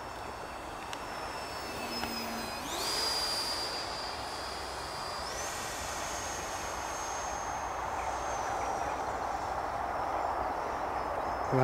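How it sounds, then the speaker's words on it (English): An Arrows Hobby BAE Hawk RC model jet flies overhead with a steady electric ducted-fan whine that rises in pitch partway through, then carries on as a constant mid-distance drone. "Supposed to fly surprisingly slow for a jet."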